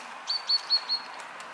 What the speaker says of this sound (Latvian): Kungu zīle.